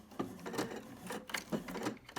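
A sewing machine stitches in the ditch along a quilt seam, giving a rhythmic run of mechanical chugs and clacks at close range with no talking.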